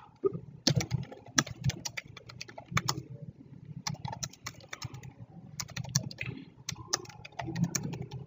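Typing on a computer keyboard while entering text in Microsoft Word, a steady run of quick key clicks in bursts with short pauses, close and clear throughout.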